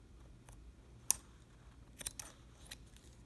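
Scissors cut through beaded bracelet thread with one sharp snip, followed by a few quieter clicks of the blades nearby in an otherwise hushed room.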